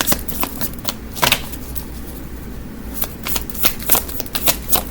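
Tarot cards being shuffled by hand, a brisk riffle of crisp card flicks and slaps in close, loud bursts, with no talking.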